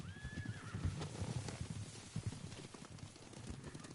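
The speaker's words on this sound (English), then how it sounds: "Horses, they're coming for us." Horses neigh and gallop in the Ghost of Tsushima video game, with a rising whinny up front followed by rapid clip-clop hoofbeats at a moderate distance.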